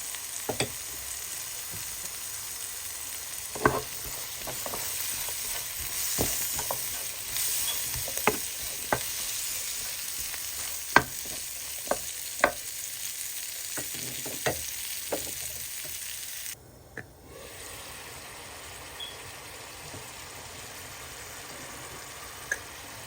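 Dried shrimp fried in a pan with green chillies and garlic pieces, a steady close sizzle with scattered sharp pops and scraping stirs, the frying dying down sharply near the end.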